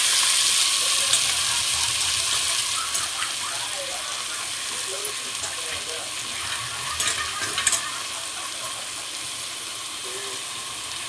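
Cowpea greens drop into a hot pan of garlic and chili, giving a steady broadband sizzle with occasional stirring clatter, moderately loud and close throughout.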